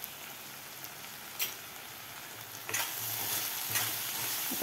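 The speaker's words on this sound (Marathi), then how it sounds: "आता आपल्याला हे मिक्स करून घ्यायचे आहेत मसाले" Spices being stirred into palak dal khichdi in a pan, a steady soft sizzle with a couple of brief scraping strokes, growing slightly louder partway through.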